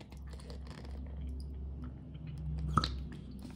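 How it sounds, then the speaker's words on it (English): Acrylic paint is stirred with pouring medium in a cup, giving soft, wet, squishy sloshing and scraping sounds, close and faint, with a small tap near the end. "mix it up very well"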